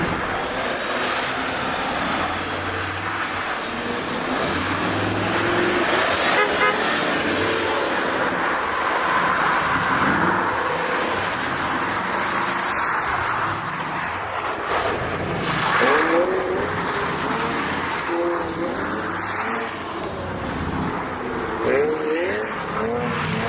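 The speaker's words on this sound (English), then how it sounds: "I love screwing around in an empty parking lot with snow with my buddies." A Ford Mustang drifts around an empty snowy parking lot, its engine revving and surging in repeated bursts with spinning tires, heard from fairly close with some faint voices in the background.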